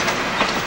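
A Newfoundland Railway train recouples its cars, making a loud, short burst of rolling rail noise with a dull clank of coupling in the middle, heard up close and alone.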